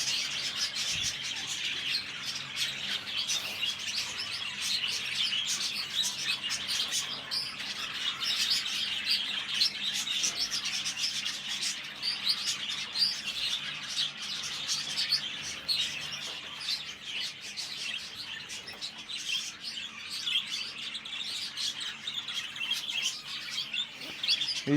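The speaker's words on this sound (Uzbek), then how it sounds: "Xo'p, endi pastga qushlar ko'rsatamiz." Many birds chirp and tweet together at a poultry bird farm, a dense continuous chorus of overlapping high calls with occasional squawks and wing flaps, steady and fairly close throughout.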